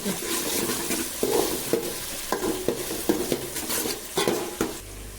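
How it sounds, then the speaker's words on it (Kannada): Onions fry in a pan while a spatula stirs them, producing a continuous sizzle broken by a series of rhythmic scraping knocks against the metal, close and fairly loud with no voices. "ಇದು ಚೆನ್ನಾಗಿ ಫ್ರೈ ಆಗೋ ಆಗಲಿ"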